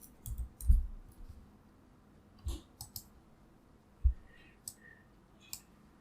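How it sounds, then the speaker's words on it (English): A computer mouse button clicked several times, short crisp clicks scattered irregularly and close to the microphone in a quiet room, with no talking. "Click on this button."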